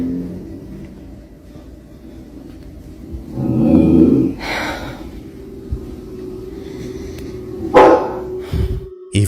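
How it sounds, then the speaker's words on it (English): A family dog inside a home barks and growls in a few loud bursts, with a low engine-like rumble and faint background hum between them, no speech. "The pet dog was completely weirded out too, growling at thin air like an intruder was standing right there."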